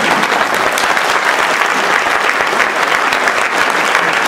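A crowd gives dense, sustained applause, loud and steady throughout, with no voices standing out.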